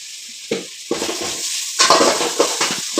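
Ginger-garlic paste stirred with onions in an oiled pan, with repeated scraping strokes of a utensil against the metal over a steady sizzle, loud and close.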